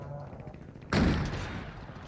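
A single sharp, loud blast from a grenade launcher in a shooter video game, with a low rumbling tail that fades over about a second after quieter background noise.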